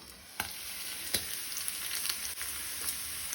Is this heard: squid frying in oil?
yes